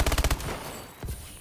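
Rapid automatic gunfire in Call of Duty, a quick burst of about six loud shots followed by a short echoing tail and another single shot.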